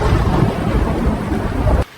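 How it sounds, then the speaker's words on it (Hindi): A heavy thunder crash rumbles with rain beginning to pour during a storm, loud and dense throughout before cutting off abruptly near the end. "अचानक से बहुत तेज बिजली कड़की और बरसात शुरू हो गई"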